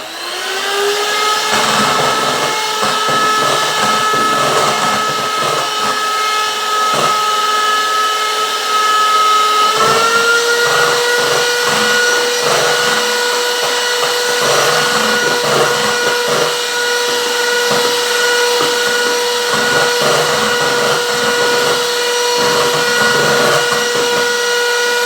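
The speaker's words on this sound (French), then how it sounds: "On remélange un peu au batteur." An electric hand mixer beats vanilla biscuit batter in a bowl with a loud, continuous whirring motor whine that steps up in pitch partway through and runs on steadily.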